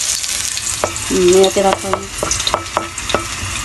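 Garlic sizzling and frying in a pan with oil, with a few brief stirring and scraping sounds from a spatula over the steady sizzle; a short spoken remark is heard.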